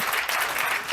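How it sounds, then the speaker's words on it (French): Dense, sustained applause from a comedy club audience, loud and full throughout with no gaps, a crowd clapping together at close range. "On peut les applaudir, s'il vous plaît, les amis."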